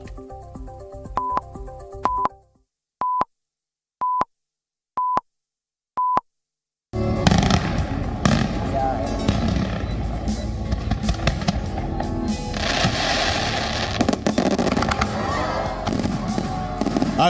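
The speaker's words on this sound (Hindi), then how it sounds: "आकाश में आतिशबाजी" A few electronic beeps sound, then a dense, continuous barrage of Diwali fireworks crackles and booms in the sky, loud and sustained.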